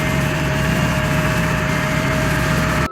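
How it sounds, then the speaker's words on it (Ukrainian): A loud tractor engine drones continuously at high revs with a steady tonal hum, close up and unbroken, labouring under heavy load while pulling a truck out of mud. "Трактор напружив сили і почав тягнути важку вантажівку з багнюки."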